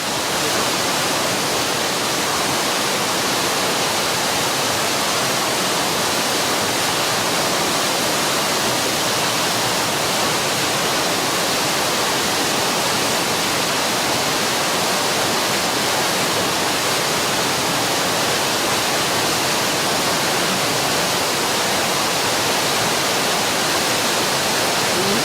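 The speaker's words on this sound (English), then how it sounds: "The mighty river Tista" The Teesta river in the Sikkim mountains rushing loudly, a steady, unbroken roar of heavy whitewater with no pauses, close and full throughout.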